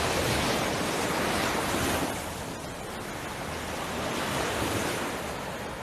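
Ocean waves washing onto a beach at mid to low tide, a steady, broad surf roar with a slow swell and ease in the middle, heard alone with some wind.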